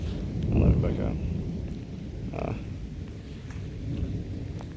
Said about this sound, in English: It's a pretty good storm we're having.